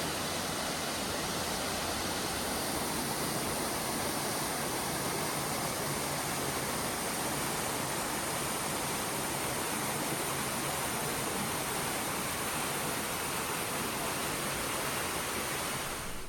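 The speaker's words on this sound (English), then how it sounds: "there is a very nice waterfall on the way down" A waterfall in Kobe, Japan roars as a steady, even broadband rush of falling water, constant and fairly soft, with no voices.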